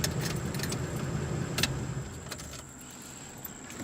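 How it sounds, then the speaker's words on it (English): A 1948 Ford Super Deluxe flathead V8 idling with a steady rumble that fades as it is shut off, a jingle of keys and a click mid-way, then a quiet cabin hush. "I'm going to shut her down."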